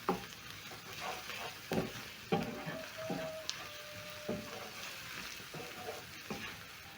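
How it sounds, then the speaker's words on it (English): Garlic and ginger are stirred and frying in a pan, a soft, steady sizzle broken by repeated knocks and scrapes of a spoon against the pan at an irregular rhythm, no voices. "Stir in the garlic and ginger, and to cook the garlic and ginger it's going to take around 30 seconds"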